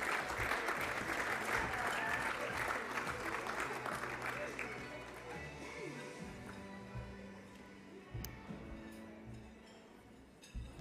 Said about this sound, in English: A round of applause for our debut Vixens.